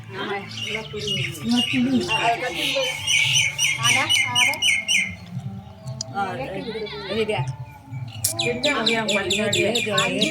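Birds chirp and call busily around a village house in Tamil Nadu, near a guava tree, where rice is scattered for them. Many overlapping tweets and squawks come close and loud, with a voice now and then.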